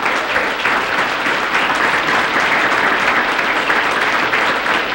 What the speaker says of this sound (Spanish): Vamos a dar un buen aplauso a Félix Rivera.